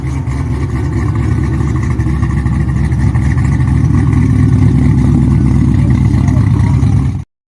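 Mike's car engine idles in a loud, steady, low rumble with a throbbing pulse, holding even and close for about seven seconds before cutting off abruptly.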